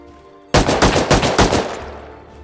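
Rust auto turret opening fire in a loud, close burst of about eight rapid shots, then a fading echo as the firing stops.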